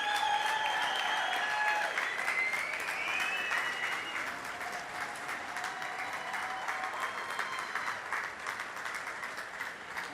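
Sustained applause and cheering from a large outdoor crowd at the Goodwood Festival of Speed, greeting 23-time TT winner John McGuinness onto the balcony; steady, dense clapping throughout with no talking.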